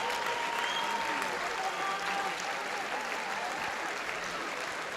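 Crowd in a judo arena at a European Judo Open event cheers and applauds steadily after a score, a dense, continuous roar of clapping with whistles and shouts throughout.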